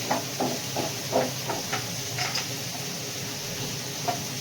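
Vegetables fry in a hot pan with a steady sizzling hiss, broken by light intermittent scrapes and clicks of stirring.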